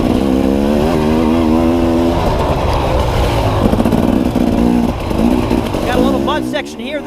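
A dirt bike in a hare scramble race at Knobby Acres, ploughing through a slimy mud section, its engine loud and close, revving and bogging as the throttle and clutch are worked, pitch rising and falling throughout.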